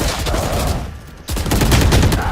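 Rapid gunfire in Valorant, with dense bursts of shots close and loud, a brief lull in the middle, then another heavy volley.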